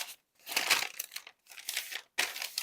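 A paper bag is folded and creased by hand, close crinkling and crunching in three bursts separated by brief silences.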